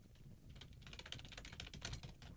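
Fingers type on a computer keyboard in quick irregular bursts of light clicks, close and fairly quiet, with no talking.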